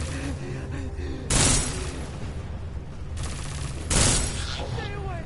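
Two loud bursts of rapid gunfire crack out in Deus Ex: Mankind Divided, separated by a couple of seconds and set against a dense, noisy background of game ambience.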